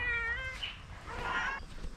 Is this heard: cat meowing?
yes